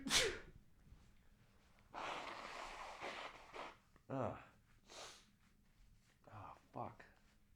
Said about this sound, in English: I gotta sneeze again